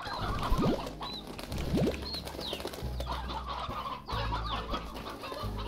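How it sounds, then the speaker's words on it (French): Chickens cluck steadily in the Slime Rancher video game, with repeated soft clucks and brief squawks over a continuous ambient game background. "ici, il y a suffisamment de poulets."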